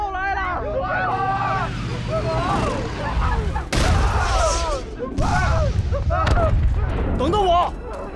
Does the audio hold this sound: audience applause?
no